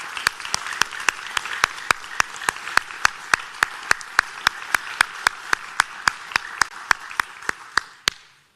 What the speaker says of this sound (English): Let's give all the veterans one last round of applause.